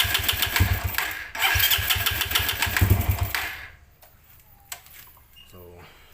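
A Raider 150 motorcycle engine with its air cut cover removed cranks and fires into a loud, rough running roar, then cuts off after a few seconds into quiet with a few faint clicks.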